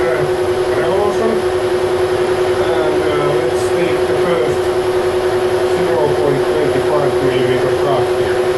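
A metal lathe takes a very light finishing cut at a slow feed of 0.038 mm per revolution while machining a centre cap for a slitting saw holder, producing a steady, even machine hum with no breaks.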